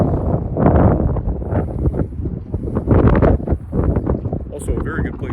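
Strong wind buffeting the microphone on a seaside cliff path at Howth, Ireland, a continuous roaring gust under a person talking throughout.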